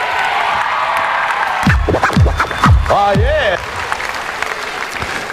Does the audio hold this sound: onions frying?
no